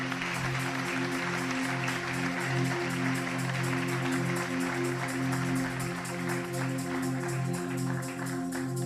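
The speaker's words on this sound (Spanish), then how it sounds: "Un aplauso fuerte a Jesús." A church congregation claps continuously for several seconds, a dense, even wash of applause over a sustained droning musical background.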